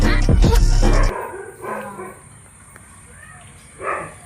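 A dog barks a few quick, loud times at close range in an Awadhi comedy sketch, then goes quiet as softer voices and background noise follow.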